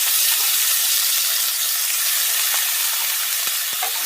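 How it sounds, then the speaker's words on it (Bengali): Shredded cabbage dropped into a pan of spiced masala that has been fried down, giving a steady, loud, bright sizzle throughout, with a couple of faint clicks near the end. "মশলাটা কষানো হয়ে গেছে, এবার দিয়ে দেবো বাঁধাকপি।"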